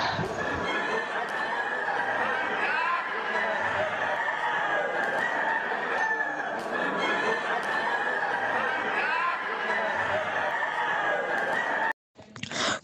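Roosters at a cockfight cluck and crow continuously in a loud, dense flock chorus with repeated squawks throughout, ending in a brief drop to silence followed by a short burst.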